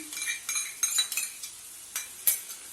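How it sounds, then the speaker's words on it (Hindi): A spoon stirs cream and kasuri methi into kadai paneer masala in a pan, giving a run of soft, fairly close scrapes and light metallic clinks in short uneven bursts, with no talking. "इसको हम अच्छी तरीके से मिक्स कर लेंगे"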